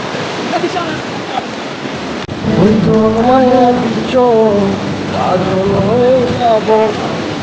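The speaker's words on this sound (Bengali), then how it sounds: "এত বড় বড় ঢেউ" Big sea waves crash and wash onto the sand at Kolatoli beach in Cox's Bazar, a loud, continuous roar of surf close by, with people talking and shouting excitedly over it.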